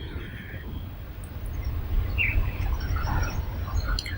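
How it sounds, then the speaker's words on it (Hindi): Birds chirping faintly in the distance, a few scattered short tweets over a low rumbling background, with no voices. "तुम चिड़ियों की चहचहाहट सुनो"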